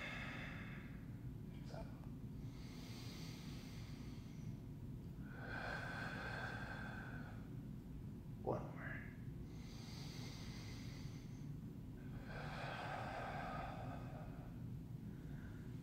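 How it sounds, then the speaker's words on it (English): Slow, deep breaths during a relaxed yoga stretch, long airy inhales and exhales repeating every few seconds over a low steady background hum, with one sharper sniff midway. "Big breaths in."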